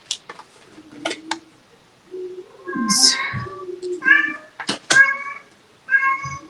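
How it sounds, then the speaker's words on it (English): A cat meows repeatedly at close range, a series of short and drawn-out cries with brief pauses between, loud and clear with no talk over it. "Kitty."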